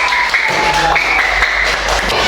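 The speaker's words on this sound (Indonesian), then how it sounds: "Tepuk tangan untuk kelompok." A crowd claps steadily and loudly throughout, a dense continuous burst of applause with faint tones ringing underneath.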